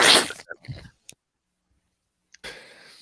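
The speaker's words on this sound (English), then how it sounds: "that's me. I sneezed." A sudden sneeze, loud and sharp at first, followed by a few small clicks, a pause of quiet, then another burst of noise.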